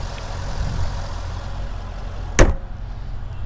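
A 2006 Chevrolet Corvette convertible with a 6-speed transmission idles with a smooth, steady low rumble, broken once midway by a single sharp knock.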